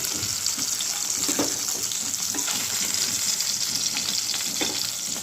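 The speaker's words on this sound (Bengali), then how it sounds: "আর তো মাছটা আমার দিক দিয়ে ভাজা হয়ে গেছে, হালকা করে ভেজে নিচ্ছি।" Hilsa fish frying in a pan on a home stove, a steady wet sizzle with crackling bursts running throughout, close and moderately loud.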